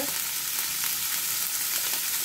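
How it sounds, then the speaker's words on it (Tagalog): Minced pork sautéing with black pepper in a pan, a dense, loud, steady sizzle with faint stirring scrapes underneath, no voices. "Habang ginigisa natin, maglagay na tayo ng black pepper"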